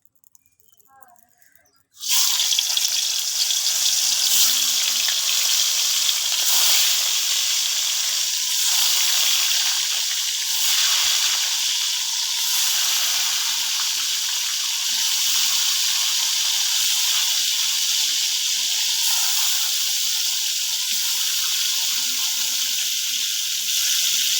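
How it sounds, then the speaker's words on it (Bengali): Fish fries in a pan with a loud, steady sizzle that starts abruptly after a couple of seconds of quiet and continues evenly, with faint occasional clinks. "দেখো এখন আমি মাছগুলা ভাজমু"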